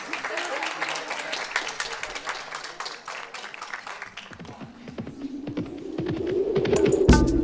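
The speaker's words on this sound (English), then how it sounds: "Nice round of applause." Audience clapping at an outdoor horse freestyle show, a dense patter of many hands that thins out midway while a low hum and louder tapping build toward the end.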